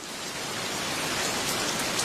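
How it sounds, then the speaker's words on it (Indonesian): Heavy rain pours down in a dense, steady hiss of countless drops, loud and uniform throughout with no pauses or voices. "Tidak biasanya hujan turun sederas ini di negeri kita."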